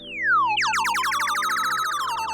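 A synthetic laser effect from a DJ controller: a quick falling zap, then a rapid stream of bright pew-like sweeps repeating loudly.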